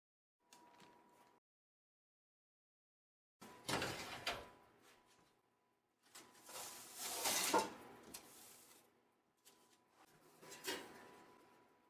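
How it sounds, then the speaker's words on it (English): A bread loaf of organic red spring wheat dough slid into an oven preheated to 450°F, heard as a short scrape, then several louder sliding and clattering bumps of a tray and oven door, close and isolated. "Now I will slide this whole thing into the oven all at once."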